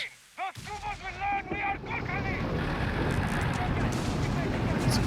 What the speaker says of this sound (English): Flares up, I'm guessing from a heavy mortar.